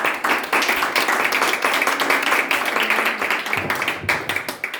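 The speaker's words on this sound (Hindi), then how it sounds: "Let's clap unto the Lord." Church congregation clapping together in praise during a Sunday service, a dense, steady wash of many hands lasting the whole stretch, fairly loud and close.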